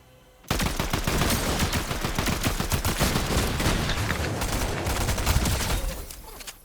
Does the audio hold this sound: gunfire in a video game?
yes